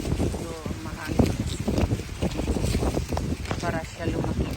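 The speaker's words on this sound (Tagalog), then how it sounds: "Medyo mahangin" Gusty wind blows across a rural provincial garden during a sweet potato harvest, steadily rumbling and buffeting the microphone for the whole stretch, with a voice talking faintly underneath.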